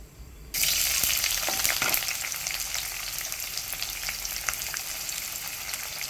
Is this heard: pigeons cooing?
no